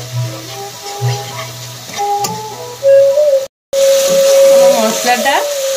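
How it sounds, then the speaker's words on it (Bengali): Spices fry in mutton fat for ghugni, giving a moderate sizzle with stirring clatter, a steady whining tone over it, and a brief dropout midway before the frying noise returns fuller. "মশলাটা কষানো হয়ে গেছে"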